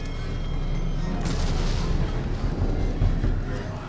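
Grenade explosion in the video game Resident Evil 7, a heavy low boom followed by rumbling debris and a second swell of blast noise, loud and close.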